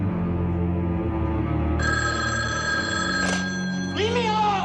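An old-fashioned telephone bell rings insistently in a tense horror movie scene inside a house, steady metallic trills sounding over a low droning score, with a sharp dramatic sting near the end.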